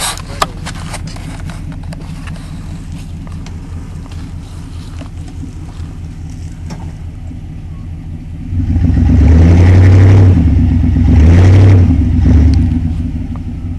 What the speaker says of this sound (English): Survivor Nayte is about to attempt to push a log out of the way using his truck.